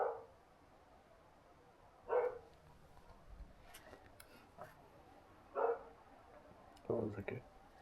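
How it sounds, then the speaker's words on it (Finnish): A dog barks four times at spaced intervals, short sharp woofs at moderate distance over a quiet outdoor background, with people talking in between. "tuli nuutti siihen sun taakse nyt haukkuu."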